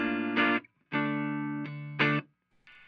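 Electric guitar strummed on a clean tone in a few sustained chords with short gaps between them, bright and harmonically rich, heard alone.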